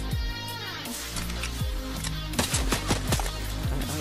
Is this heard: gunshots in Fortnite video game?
yes